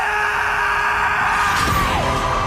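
A male anime character lets out a loud, sustained battle scream during a sword fight scene, the yell rising and falling over dense background music and effects for a couple of seconds.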